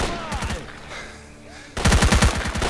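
Automatic gunfire in the video game STALKER: Call of Pripyat, a rapid burst of shots at the start, a quieter lull, then a louder, closer volley of rapid shots.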